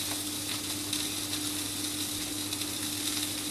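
Lamb fat sizzles steadily in a hot non-stick pan, a dense, even crackle and hiss held at close range with a low background hum and no talk.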